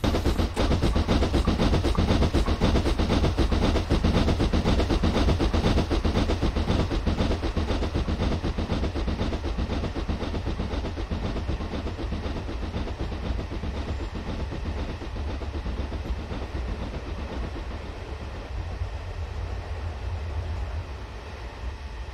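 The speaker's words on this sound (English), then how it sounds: "The next day, Nigel was pulling a goods train" Goods train running along rails, a long steady rumble with rapid rhythmic clatter of wheels over track joints, loud and close at first and easing slightly toward the end.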